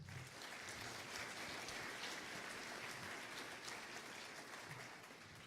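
A conference audience applauds panel speakers at ICCC9, a dense, steady patter of many hands clapping at close range for several seconds without a break.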